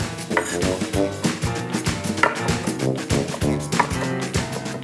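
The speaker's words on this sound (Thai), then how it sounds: "เอากระเทียมมาบุบนะครับ อ่าแล้วเราก็สับ" Crushed garlic chopped with a knife on a board, quick repeated thuds in an uneven rhythm, close and clear, alongside background music.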